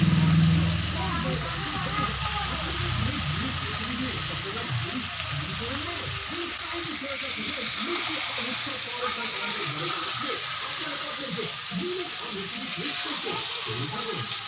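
Chicken curry frying in a pan in a village home kitchen, a steady sizzle with stirring scrapes running throughout, close and moderately loud.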